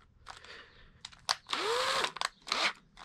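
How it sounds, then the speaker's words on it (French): An old cordless drill with dead batteries struggles to bore a hole, giving short bursts and one longer whining run that bogs down, with clicks and bumps between attempts, fairly quiet and without talk. "Même ça, ma perceuse n'y arrive pas."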